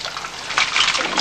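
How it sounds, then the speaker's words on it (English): Water draining and splashing off a violin plate bending assembly just lifted from a hot water soak, a close, steady gushing trickle that surges briefly midway. "drain the water out of it"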